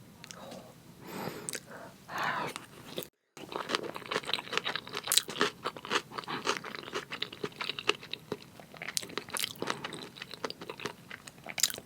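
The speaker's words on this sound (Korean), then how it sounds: "먹어볼게요" Close, wet crunchy chewing of spicy marinated raw crab bibimbap, with repeated bites and squishy mastication throughout and a short silent gap early on; no speech.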